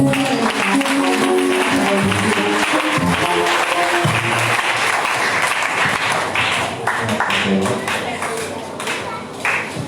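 A congregation at a church youth service claps loudly and continuously, mixed with voices and tonal sound that carry on throughout.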